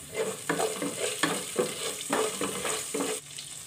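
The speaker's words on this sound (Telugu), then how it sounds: "ఆయిల్ హీట్ ఎక్కిన తర్వాత మినప్పప్పు, ఆవాలు, జీలకర్ర ఈ మూడింటిని వేసుకొని కొంచెం ఫ్రై చేసుకోవాలి" Urad dal, mustard seeds and cumin sizzle in hot oil while a spoon scrapes and stirs in quick, repeated strokes, close and steady throughout. No talk.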